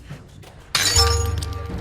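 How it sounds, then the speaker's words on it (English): Glass shattering during a cat rescue: a sudden loud crash followed by a ringing, tinkling spill of fragments that slowly fades. "when the glass is broken and it finally gets a hit of fresh air"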